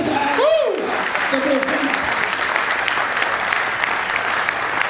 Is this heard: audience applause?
yes